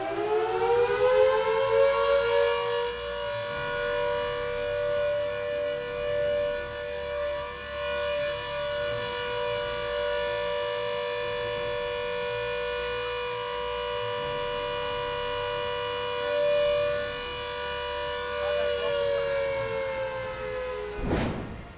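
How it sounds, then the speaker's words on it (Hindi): A civil defense air raid siren wails at a sustained, steady pitch for about twenty seconds, loud and continuous, then cuts off abruptly, during a nationwide civil defense mock drill in India. "इस मॉक ड्रिल के दौरान भी आपको कुछ इसी तरह के सायरन सुनाई देंगे।"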